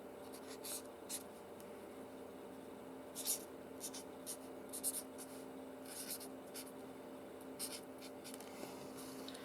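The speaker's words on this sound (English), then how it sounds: "we need to just write foliage up here" A pen scratches across junk-journal paper as a single word is handwritten, soft intermittent strokes with brief louder scrapes over a quiet steady hum.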